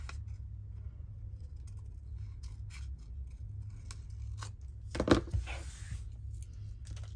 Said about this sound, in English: And I cut off at each pointy bit. I find that's the easiest way to cut these.